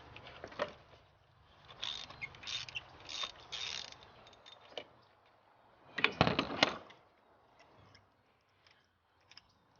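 A socket wrench ratchets as it removes spark plugs from an Audi engine, giving up-close, intermittent bursts of clicking with quiet gaps between them.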